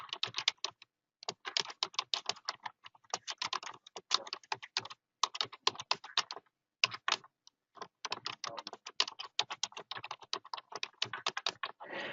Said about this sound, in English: So in here, I can type in anything that I want.